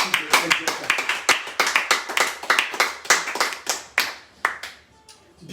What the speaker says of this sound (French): nous pouvons acclamer le Seigneur pour ce type d'exhortation